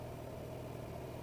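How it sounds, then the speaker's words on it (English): A Suzuki GSX-R750 motorcycle rolls downhill with the clutch pulled in, giving a steady, low, muffled engine and road rumble. It sounds even and continuous, with no voices over it. "Just pull your clutch in and hold, and just let the bike roll down"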